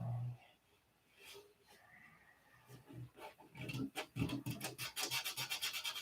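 Hand sanding across a painted surface with pinhole spots, the scrubbing strokes starting slow and sparse then quickening into a fast, regular back-and-forth rasp up close.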